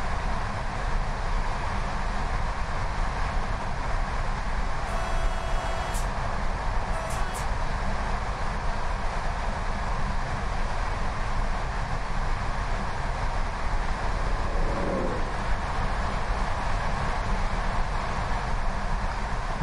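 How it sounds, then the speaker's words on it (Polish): Steady rumbling of a train in the MaSzyna simulator game, an EU47 locomotive with eight modernized wagons, running continuously at moderate loudness with a brief higher tone midway, no talking. "Pociąg przyjechał."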